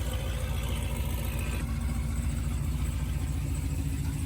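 A built Dodge Scat Pack idles on the street, its engine a steady, deep, low rumble close by with a slight rise partway through, no voices over it.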